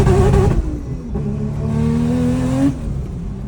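A Toyota Supra on a drive, running hot spark plugs and still troubled by a sensor fault, revs up with a rising engine tone, eases off, then climbs again before dropping away; close, loud and with no talking.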